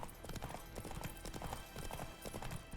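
Horse hooves gallop steadily in Witcher 3, a fast continuous clip-clop rhythm heard close and loud over a dense game soundscape, without speech.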